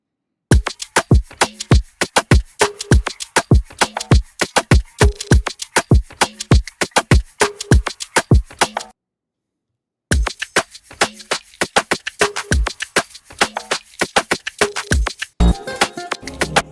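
Loud layered drums pound out a quick, steady beat, pause for about a second, then resume with added texture near the end.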